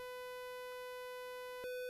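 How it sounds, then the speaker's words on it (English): A steady synthesizer tone with a bright, buzzy sawtooth timbre holds for about two seconds, alone and at moderate volume. "Here is for the sine wave, for the sawtooth,"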